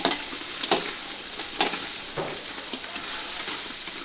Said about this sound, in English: add the crabs, mix and continue frying over high heat.